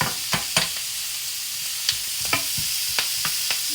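Bacon frying in a pan with Brussels sprouts on a burner at medium-high heat, a steady hiss with scattered scraping knocks as it is stirred, close and without talk.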